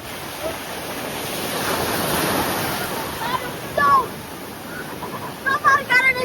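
Heavy sea waves at Cavendish Beach, Prince Edward Island, Canada: a broad rushing surge of surf that swells and recedes, with wind buffeting the microphone and brief voices and splashy bursts near the end.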